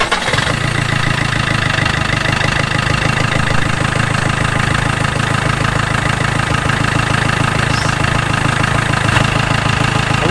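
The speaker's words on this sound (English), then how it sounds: "Let's see if this engine runs." An Iveco Daily engine starts and settles into a steady running idle on a workshop stand with no coolant fitted, a close, continuous mechanical rattle and hum with no talking.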